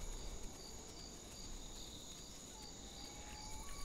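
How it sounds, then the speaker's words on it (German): Faint steady insect-like buzzing of flies in the dinosaur survival game The Isle, a thin continuous drone over a quiet night ambience, with no voices. "Wir müssen nur dieses Fliegengeräusch finden."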